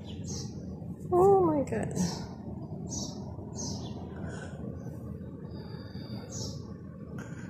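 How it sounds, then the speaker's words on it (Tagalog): Small birds chirp and tweet in short scattered bursts over a low background hum, with a person briefly exclaiming near the start. "Maingay lang yung ibon."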